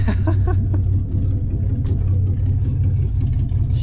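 Chevrolet S10 pickup doing a tire burnout, its engine holding a loud, steady low rumble close up with brief revving surges early on, no voices over it.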